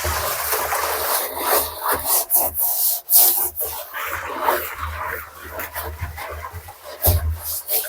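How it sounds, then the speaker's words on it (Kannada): Scrubbing the inside of a dirty water drum, a steady rough rubbing and rasping that keeps going in uneven strokes, with a few short knocks and pauses, close up and fairly loud. "ಸೆಕೆಂಡ್ ರೌಂಡ್ ಒಂದ್ಸಲಿ ತಿಕ್ಬಿಡೋಣ್ರಿ"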